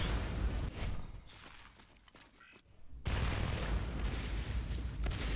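Level 3 shotguns in Natural Selection 2, heavy blasts crowding together into a dense, loud barrage, briefly easing to a rumbling lull before erupting again into sustained close firing.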